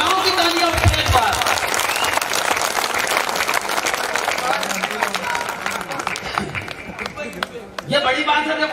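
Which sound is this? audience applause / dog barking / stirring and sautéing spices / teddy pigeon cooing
audience applause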